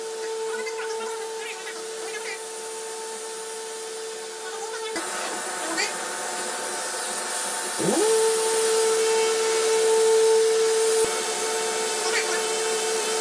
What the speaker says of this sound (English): So we'll go ahead and sand all these now before we assemble.